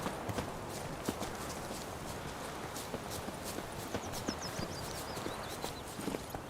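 Horse hooves clip-clop steadily on the ground in The Witcher 3, a continuous even rhythm of hoofbeats under a constant ambient wash, fairly faint and alone.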